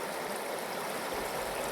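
Water of a small creek flowing along an overgrown greenway trail, a steady, close rushing and babbling wash with no pauses and nobody speaking.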